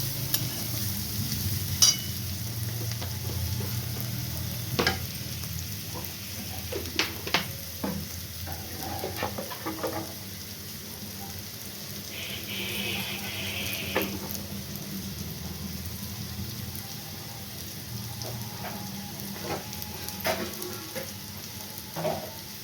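Cauliflower stalks with a little turmeric fry in a pan under a soft, continuous crackle, while a spatula scrapes and taps at irregular intervals, some clicks sharper and louder than others.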